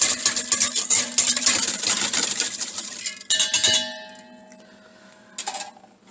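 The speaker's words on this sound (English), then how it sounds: "Give that a quick stir." A utensil clinks and scrapes rapidly against the side of a bowl of yeast, sugar and warm water for a few seconds, then stops, followed by a ringing tap and a brief final clatter.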